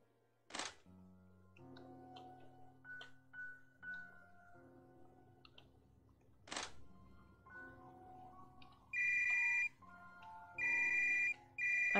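A phone rings in the video game Sofia. Soft melodic electronic notes and a few thuds are followed by two loud, steady, high-pitched ringing bursts near the end.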